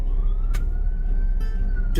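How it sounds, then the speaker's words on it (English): Emergency vehicle siren wailing in a city street setting, a steady rising tone sustained through the clip, moderately loud amid traffic rumble and brief noise bursts. "I can hear the sirens."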